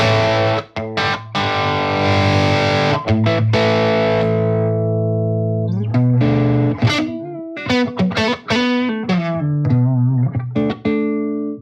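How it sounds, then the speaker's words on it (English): Heavily overdriven electric guitar through a Soldano SLO Mini amp head: sustained crunchy chords ring out, then a run of gritty, saturated single notes and bends, loud and close. "This is overdrive to full-on distortion."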